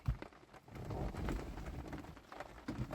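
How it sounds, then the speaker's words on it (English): Light rain patters outdoors near a Mazda MX5 ND during a gearbox oil change, soft irregular drops and taps at low volume with no talking. "Sorry, it's raining here."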